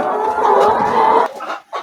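A broody hen on a poultry farm gives a steady run of low, throaty clucking that grows briefly louder, then breaks off into a few short clucks at the end.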